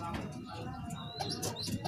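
A young racing pigeon of the SRPC club coos low under chirps and a steady background hum, with faint voices and a few higher calls toward the end.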